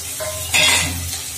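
Onion paste, ginger paste and grated coconut frying in oil, a brief close sizzle with a sharp burst of stirring and utensil scraping midway.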